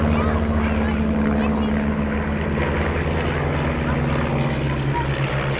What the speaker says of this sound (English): This, going through its aerobatic paces, is representative of another of the Chipmunk's customer nations, Portugal.